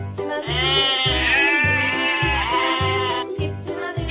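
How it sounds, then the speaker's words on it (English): A sheep bleats in long, wavering cries, loud and close, with a low droning bed beneath the calls through most of the stretch. "Sheep."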